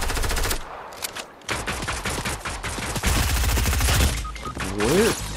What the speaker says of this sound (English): Where did I get shot from?